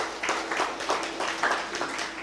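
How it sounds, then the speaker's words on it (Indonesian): A church congregation gives a short burst of applause during a sermon, the clapping moderately loud and steady for a couple of seconds. "Berikan dulu tepuk tangan bagi Tuhan."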